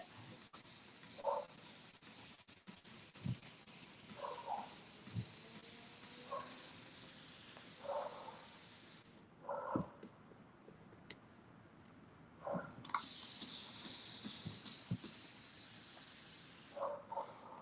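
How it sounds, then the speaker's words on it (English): Spray paint hisses onto a canvas in a string of short and longer bursts, some faint and some bright and sustained, with quiet pauses and small handling noises between them, and no talking. "let's spray some of this and see what happens. And then let's just spray the heck out of this one and let that stuff drip"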